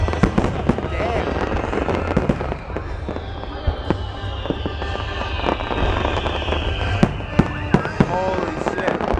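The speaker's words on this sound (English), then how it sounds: "Fireworks all day, 24/7." Fourth of July fireworks show over the National Mall in Washington DC, with loud sharp bursts and crackles against a constant crowd roar and people talking close by.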